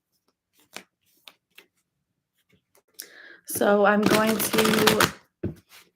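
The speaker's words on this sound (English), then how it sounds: "am shuffling your tarot cards" Tarot cards are handled with a few light isolated clicks, then shuffled in a dense riffling burst, heard under and alongside a person talking.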